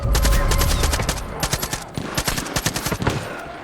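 Sustained automatic gunfire in Far Cry 5 while defending an outpost, a dense rapid rattle of shots from a heavy opening burst into steady staccato fire, loud and continuous throughout.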